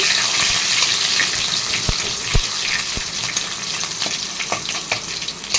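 Onions frying for a greens stir-fry hiss loudly and steadily in the pan, with a few sharp utensil knocks and stirring sounds over the continuous sizzle.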